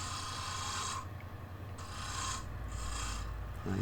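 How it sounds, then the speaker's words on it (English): A spindle roughing gouge rounding a square wood blank on a lathe, a continuous close rasping cut that drops away and resumes in several short passes. "I use spindle roughing gouge, just getting it roughly round."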